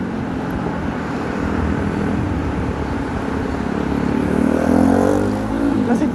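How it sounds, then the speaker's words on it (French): A motorcycle passes along a street near the Loire river, a steady loud engine drone that swells toward the end as it draws closer, over constant broadband background noise. "Là c'était une moto"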